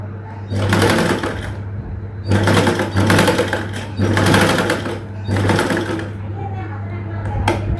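A sewing machine stitches the hem of a chudithar pant in several loud bursts of rapid needle clatter separated by short pauses, with a steady low motor hum underneath.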